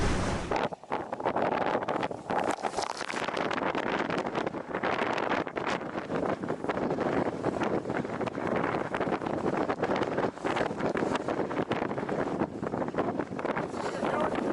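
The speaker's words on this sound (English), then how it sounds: "it's 24 knots of wind here" Strong wind of about 24 knots roars steadily across the microphone aboard a sailboat at sea under a reefed genoa, a loud, continuous buffeting rush with water noise beneath and no pause throughout.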